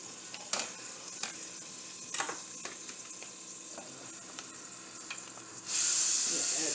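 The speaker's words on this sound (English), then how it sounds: "Now we're going to cook our vegetables." Onions and bell pepper fry in oil and butter in a single pan, a low sizzle with a few scattered utensil clicks, then a sudden loud hiss swells near the end.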